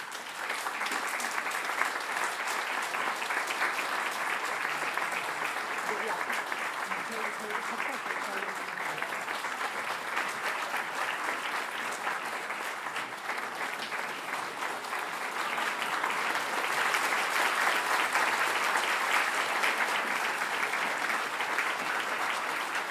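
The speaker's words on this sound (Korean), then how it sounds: "여러분들 길고 큰 박수로 맞이해 주시기 바랍니다" A church congregation gives long, sustained applause at a pastor's installation service, a steady dense clapping that fills the room throughout and swells louder near the end.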